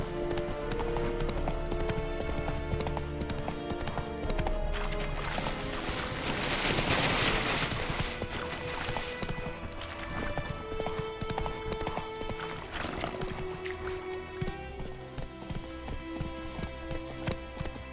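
A horse gallops in The Witcher 3 video game, its hoofbeats drumming in a steady rhythm under a dense, loud game soundtrack with a rushing swell partway through.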